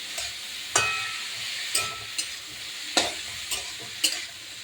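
Snake gourd fries with salt and turmeric in a pan, a steady sizzle broken by five or six sharp scraping strokes of a spatula at an uneven rhythm, close and alone.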